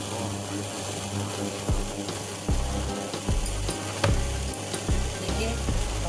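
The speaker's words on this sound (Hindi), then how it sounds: "देखिए, मैंने चाशनी छान कर उसे दोबारा बॉईल करने के लिए रख दिया है। इसमें अब उबाल अच्छे से आने लगा है।" Strained sugar syrup for rasgulla boils steadily in a pot, a continuous bubbling hiss broken by a few scattered clinks and knocks, close and moderately loud with no voices.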